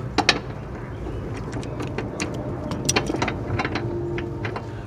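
A mower blade bolt is tightened with a ratchet, a series of sharp metallic clicks arriving in irregular bursts close by over low background noise.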